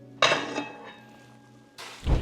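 Rice and thyme are stirred in a cooking pot, with a loud metallic scrape and clink of a utensil against the pot, a softer knock after it, then another clattering stir near the end.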